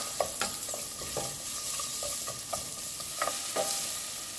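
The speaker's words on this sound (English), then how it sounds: "Onions in, pinch of salt to sweat those out, and I'm just gonna saute them for a little bit" Onions with a pinch of salt sauté in a pan under a steady close sizzle, punctuated by repeated light scrapes and taps of a utensil stirring them.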